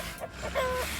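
A cartoon chicken clucks in a short, busy burst amid background music and noise in a children's animated robot show.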